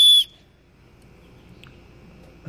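A whistle built into the 3-in-1 buckle of a paracord survival bracelet gives one short, loud, shrill blast at the start, then cuts off into faint background noise.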